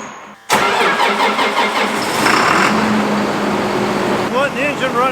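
A tractor engine cranks and starts, then settles into a steady, loud running idle near the listener, with a brief whistle-like tone near the end.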